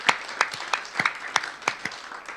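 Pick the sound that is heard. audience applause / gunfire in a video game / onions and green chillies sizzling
audience applause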